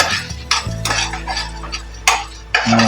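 Chillies frying in oil in a pan over a medium flame for Chettinad-style fish curry, with repeated scraping stirs and utensil clinks over a steady low sizzle.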